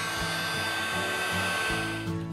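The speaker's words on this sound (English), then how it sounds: "I'm going to heat emboss it in white. And I will heat it up." A heat gun blows continuously and steadily up close, heating white embossing powder on a stamped card panel, with a constant whirring hum and no speech.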